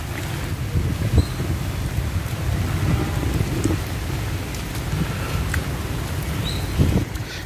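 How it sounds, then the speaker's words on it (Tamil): Light rain falls at Vatika Garden near the Palakkad aqueduct, a steady, soft hiss of drops with low background rumble that holds evenly throughout with no talking. "மழையும் லைட் ஆயிடுச்சு"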